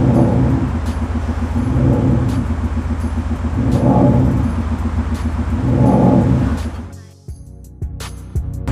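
Maserati Levante diesel engine fitted with a V8 sound system, giving a loud, close rumble that swells in repeated revs, then drops away to quieter idle ticking near the end.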